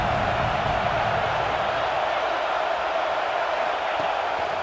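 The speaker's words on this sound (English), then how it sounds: "This crowd bringing the energy and noise early" A football stadium crowd sends up a broad, steady roar that holds constant throughout, with talk faintly mixed in.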